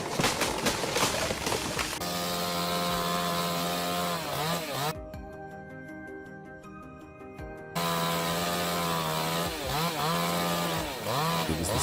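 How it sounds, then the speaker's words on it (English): A chainsaw cutting into a tree, loud and close, its engine note rising and falling as it bites into the wood, with a quieter idling pause in the middle before the saw revs and cuts again. "It was the satisfying sound of a tree falling."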